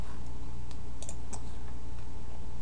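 Brief burst of typing on a computer keyboard, a few scattered key clicks over a steady background hum, close and moderately loud.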